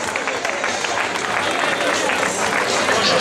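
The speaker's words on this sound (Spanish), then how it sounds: "Fuerte aplauso para los voluntarios." Crowd applause for the volunteers at the IV Carreira do Arenteiro road race in Carballiño, a dense steady wash of clapping with crowd murmur throughout, fairly loud and continuous.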